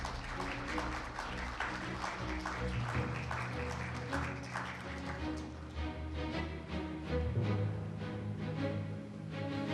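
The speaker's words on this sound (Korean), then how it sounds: "박수로서 환영해 주시기 바랍니다" Steady applause from an audience welcoming Sim Sang-jung, the Justice Party presidential candidate, onto a stage at a science and technology policy debate, sustained and fairly loud over a low hum throughout.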